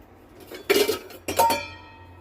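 Dry sago pearls poured into a bowl for sago kheer, making two short bursts of pattering, clinking rattle against the dish, close and clear with no talk.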